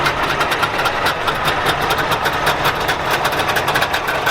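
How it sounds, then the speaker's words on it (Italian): Old Eastern European vintage engines idle together at a classic car gathering, a loud, steady, rough rumble with a constant knocking pulse and no pauses throughout. "Ci godiamo così il ruggito di questi motori."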